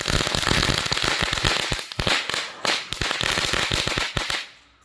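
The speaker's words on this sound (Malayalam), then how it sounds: "ഇപ്പൊ കാണാം പടക്കത്തിന്റെ ശക്തി." Miniature firecrackers set off for a Vishu celebration burst in a rapid, dense string of sharp, loud cracks and pops lasting several seconds before fading out.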